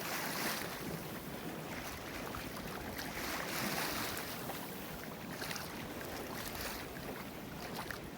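A sailboat runs dead downwind at about 7.5 knots on a wet, windy day near Campania Island, with continuous rushing waves and water wash under heavy buffeting wind noise, steady and unbroken, with no voices.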